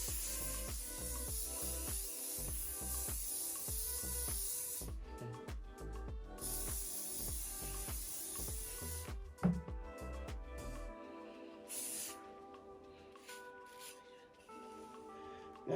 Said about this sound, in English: I'm gonna spray this at the top of my wig.